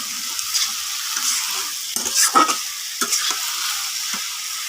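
Spices fry in a pan with a steady bright sizzle, broken by a few scraping stirs and clacks of a spoon against the pan, close and loud with no talking.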